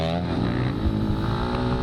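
Dirt bikes racing wheel to wheel near the finish of a muddy hare scramble at Eddieville, engines roaring loud and close with a steady, dense revving drone throughout.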